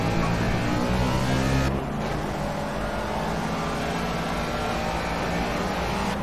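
A Ford Escort Mk1 RS1600 race car roars continuously in Project CARS, its engine note loud and sustained with a brief shift in tone early on, then holding a steady high-revving drone.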